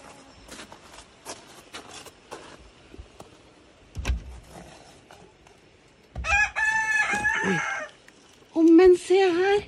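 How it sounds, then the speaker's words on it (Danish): Hens and a rooster in a hen yard: scattered soft clucks and rustles early on, then a rooster crows loudly twice near the end, close by and alone without talk. "Og to høner til. Og så hanefar."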